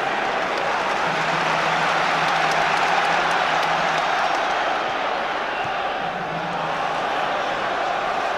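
A football crowd fills the stadium with a steady roar of cheering and encouragement, broad and continuous, swelling slightly in places, with a match commentator's voice faintly underneath.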